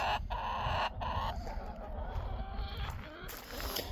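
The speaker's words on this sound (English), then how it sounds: "Crazy chickens." Chickens cluck and squawk continuously close by, a busy flock chorus with occasional louder calls and no talking.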